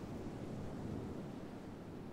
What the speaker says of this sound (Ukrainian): Тут зашкваристий вітер, який не дає спокійно йти